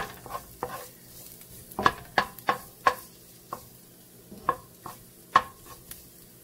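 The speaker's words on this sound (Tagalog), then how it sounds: "Pag init na sa kaha, butangan na to ang ahos or garlic." Garlic dropped into a hot wok for catfish nilarang, with a low sizzle under repeated sharp clacks of a spatula stirring against the metal, close and moderately quiet, with no talking.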